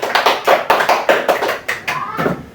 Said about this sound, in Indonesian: Kita tepuk tangan untuk kita masing-masing.